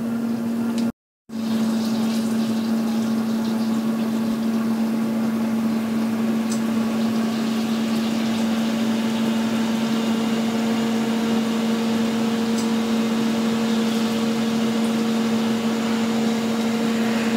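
A Ninja Grill Max Pro countertop grill running, a steady loud electric hum with a constant low tone and fan-like noise, interrupted by a brief cut near the start, then continuing evenly.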